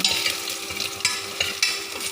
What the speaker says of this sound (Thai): นี่ค่ะเจียวกระเทียม